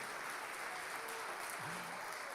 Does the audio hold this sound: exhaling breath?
no